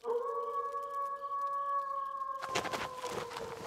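A distant, steady, mournful howl holds one long tone for a couple of seconds before a burst of rustling noise covers it.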